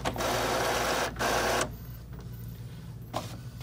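An Epson WF-2750 inkjet printer's carriage whirs loudly in two mechanical bursts as it shifts to the center, followed by quieter clicks and faint motor hum; no talking.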